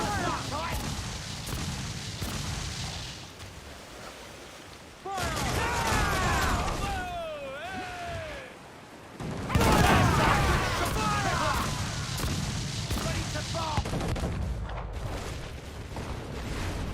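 Ship cannons firing in the pirate game Assassin's Creed 4 Black Flag: booming, crashing volleys roll out in two big waves amid creaking and clatter, with shouting voices over the battle.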